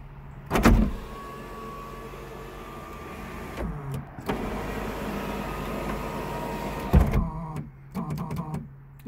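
The sunroof motor of a 1996 Honda Accord runs inside the car, a steady electric whir for a few seconds bracketed by mechanical clunks, then runs again before a final thunk.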